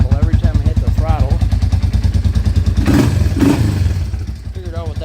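A 1998 Yamaha Warrior 350 ATV, neglected for years, thumps loudly up close with a rhythmic single-cylinder pulse and a metallic clattering rattle as the throttle opens, while someone talks over it.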